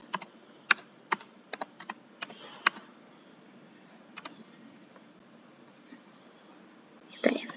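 Keys tap on a computer keyboard as numbers are entered, a few sharp isolated clicks in irregular bursts over a quiet background, ending with a louder key press.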